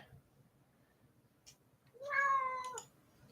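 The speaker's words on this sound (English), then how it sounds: "Here's the cat." An elderly 15-year-old house cat gives one drawn-out meow close by in a quiet room, after a faint earlier sound.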